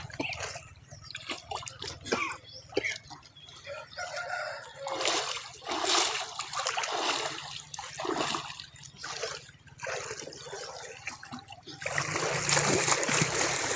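A person splashing and thrashing in water while trying to sink, with continuous broadband sloshing and churning that grows louder and denser toward the end, heard close up with no talking.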